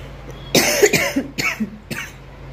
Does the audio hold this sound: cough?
yes